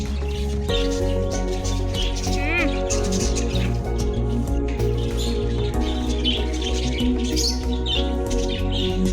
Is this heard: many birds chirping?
yes